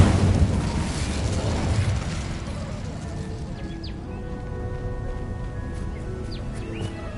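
An Incendio fire spell cast in Hogwarts Legacy on PS5 bursts out loud and fiery at the start, then fades over a few seconds into quieter ambient game sounds with faint chirps.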